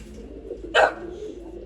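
A single short bird call rises briefly from low background noise, a soft pigeon coo heard close by.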